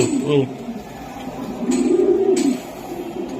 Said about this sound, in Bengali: এটা নিজেও রেস করা কবুতর